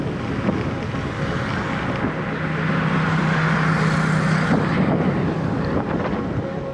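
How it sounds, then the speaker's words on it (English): Strong headwind buffeting a cyclist on a road around Cebu, a loud continuous rushing roar that swells and gusts throughout without a break. "Headwind is definitely picking up."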